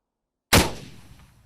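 A rocket fired during a US military live-fire exercise, heard as a single sharp, loud blast after half a second of silence, followed by a decaying rumbling tail.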